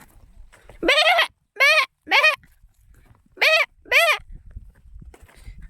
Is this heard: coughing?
no